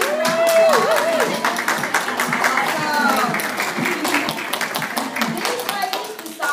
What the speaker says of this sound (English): Stand up and give a round of applause.